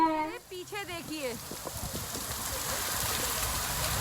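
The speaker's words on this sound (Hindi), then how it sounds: "इतनी बारिश हो रही है" Heavy rain pours outdoors during a thunderstorm in Canada, a steady dense hiss of falling water that takes over after a brief burst of voices at the start.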